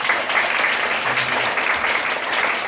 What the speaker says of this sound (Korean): 힘찬 박수 한번 부탁드리겠습니다